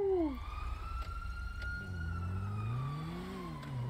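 A sheriff's car siren wails close by as it runs through an intersection, its rising and falling tone sweeping over a steady engine rumble, with faint voices underneath.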